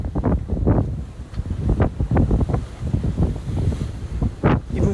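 Strong wind buffets the microphone on a boat sailing in Norway, loud gusting rumbles and roars rising and falling with water surging beneath, no speech.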